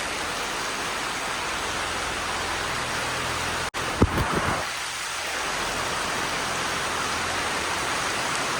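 Heavy rain drums steadily on a tarpaulin canopy set up for a mehndi gathering, a dense loud wash of noise broken near the middle by a brief knock and rustle, with no voices.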